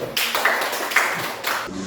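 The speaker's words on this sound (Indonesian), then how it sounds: "tepuk tangan untuk kelompok 1 dulu" Classroom of students clapping for the first group before it presents its work, a short burst of several hands applauding together near the microphone, fading out after about a second and a half.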